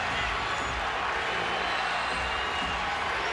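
The home crowd at a Cleveland Cavaliers basketball game against the LA Lakers in 2006 keeps up a steady, dense roar of cheering that fills the arena without letup.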